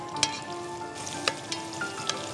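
Chopped onion sizzling in oil in a pan, with a steady fry crackle broken by a few sharp clicks of a utensil against the pan, no talking.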